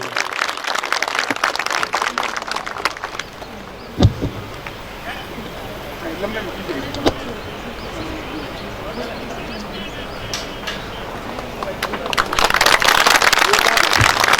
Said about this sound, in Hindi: जोरदार तालियों से इनका स्वागत होना चाहिए।